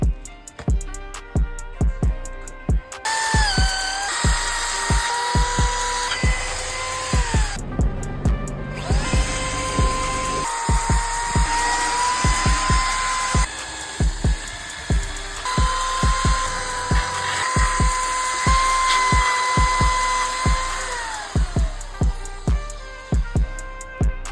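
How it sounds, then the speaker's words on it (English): A DeWalt power tool whines loud and steady through a DIY build, its pitch rising and falling as the load changes, with short pauses and rattling bursts along the way. "We gotta get this DeWalt cranked up."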